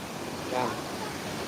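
Kuang Si waterfall in Luang Prabang gives a steady, even rush of falling water that holds at one level throughout, with a faint voice rising briefly in the middle.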